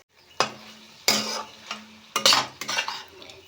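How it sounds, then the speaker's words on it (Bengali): Boiled eggs frying in a spice masala while a spoon stirs them in the pan, with sharp repeated scraping strokes against the metal over a low sizzle, close by and without speech. "ডিমটা মশলার সাথে খুব ভালো করে ভাজবো।"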